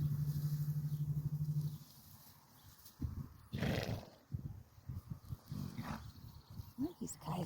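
Horses in a pasture at dinner time, with a whinny-like call, snorting and soft shuffling hoof sounds at close range over outdoor ambience.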